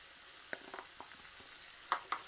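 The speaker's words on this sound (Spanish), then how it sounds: "Le doy vuelta a la sartén. Rehogo el jamón muy poquito" Chopped ham sautéing briefly in a frying pan for croquetas, a faint steady sizzle with a few soft scattered pops and crackles, no voices.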